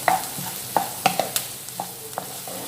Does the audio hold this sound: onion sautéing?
yes